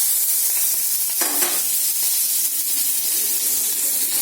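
Spices and seeds frying in smoking hot oil with the gas turned low, a loud steady sizzle and hiss throughout with a brief stir or crackle burst near the middle, no talking.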